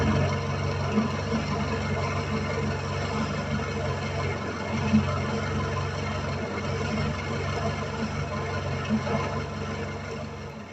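A four-cylinder engine idles smoothly and evenly, a steady mechanical hum with only a soft, regular ticking underneath.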